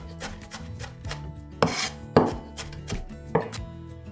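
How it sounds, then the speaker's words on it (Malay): A knife finely chops shrimp fritter ingredients on a board in uneven strokes, several sharper thuds among lighter taps and scraping, close and clear without any voices. "Cincang halus ke semua bahan."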